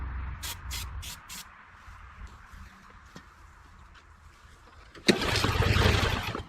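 An old gasoline engine, abandoned for years in a blackberry thicket, cranks and sputters while trying to start, with a few sharp bursts early on and a sudden louder rough roar near the end.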